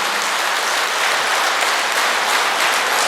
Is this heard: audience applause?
yes